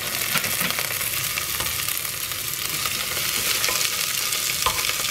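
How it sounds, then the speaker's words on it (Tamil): Tomatoes added to sautéing onions in a pan for kadamba sambhar, frying with a constant loud sizzle and occasional scraping stir strokes, no talking. "இப்போ தக்காளி பழம் போட்டுக்கிறேன்."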